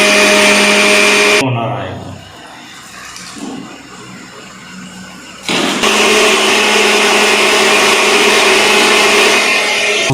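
A mixer grinder grinds whole spice masala for a restaurant-style village chicken curry: a loud, steady whirring roar that cuts out for a few seconds, leaving a quiet gap with a brief voice, then starts up again at full strength.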